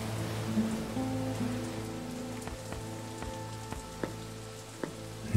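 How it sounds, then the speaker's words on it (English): Rain falls in a point-and-click adventure video game, a soft steady patter of drops with occasional louder drip hits over a low sustained background tone. "Thanks for the rain, Effort."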